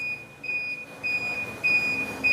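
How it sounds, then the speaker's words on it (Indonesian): A buzzer on a 10 kW solar inverter sounds under a heavy load of about 7000 watts, a steady high-pitched electronic tone pulsing in repeated beeps, loud and close over a faint background rumble. "Ini beban 7000, kita matikan buzzer."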